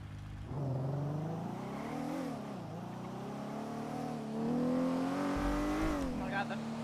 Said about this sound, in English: Oh my god, the car is so loud